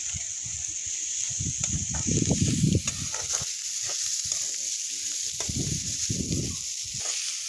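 Masala spices frying in a pan in a home kitchen, a steady soft sizzle with bursts of scraping and stirring rising and falling over it, close and moderately quiet.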